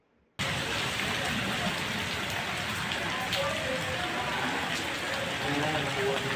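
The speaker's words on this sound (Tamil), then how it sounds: "மழை பெய்யல, காற்று மழை பெய்யுது." Rain driven by wind pours down in Puducherry, a loud, constant wash of drops that starts abruptly after a short quiet moment and carries on unbroken.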